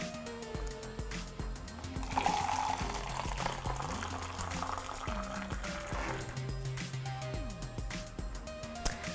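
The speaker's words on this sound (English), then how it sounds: "we're just going to pour it directly" Hot water at about 85 degrees Celsius is poured straight into a cup for mango milk tea, a soft rising trickle heard faintly beneath steady background music.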